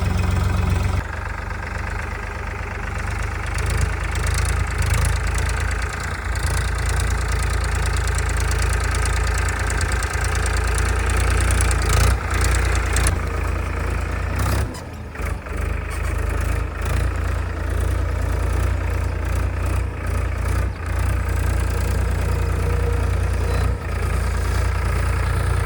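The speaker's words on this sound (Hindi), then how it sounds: "नया ट्रैक्टर लिया, नया ट्रैक्टर पहली बार चला रहा हूँ" Steady diesel engine of a new tractor idling close by, a low rumbling knock continuing throughout with little change.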